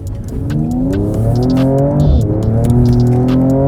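A Mercedes-AMG E53 Coupe engine revs and rises in pitch, shifting as it works through a turn, loud and close, with brief tire noise.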